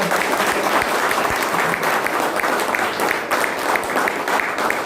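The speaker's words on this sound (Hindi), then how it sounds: "हम दिल से आपका स्वागत करते हैं और जोरदार तालियों के साथ अपने मेहमान" A seminar audience in a hall gives loud, continuous applause to welcome its guests, the clapping dense and close with a few sharp individual claps standing out.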